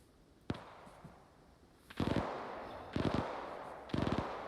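A frag grenade goes off in a World War II video game, one of several loud booming blasts that land about a second apart after a sharp early crack, with rumbling tails between them.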